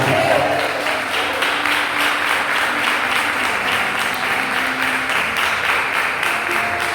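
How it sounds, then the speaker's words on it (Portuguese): A church congregation applauds steadily and loudly throughout, a dense, continuous wash of many hands clapping at an even level with no talk standing out. "Quem entendeu, aplauda o nome santo do Senhor Jesus."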